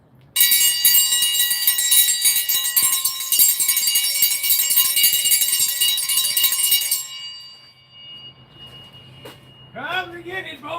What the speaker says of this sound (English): Let's ring the dinner bell.